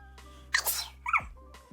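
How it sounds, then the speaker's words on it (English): A single person's sneeze, a sharp breathy intake followed by a quick explosive burst, close and fairly loud in an otherwise quiet room. "Oh no, I have to sneeze."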